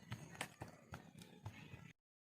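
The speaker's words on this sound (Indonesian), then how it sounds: "Ah, kuda zebra." Zebra hooves clip-clop in a quick, regular rhythm of sharp knocks that sound close but quiet, then stop abruptly into silence.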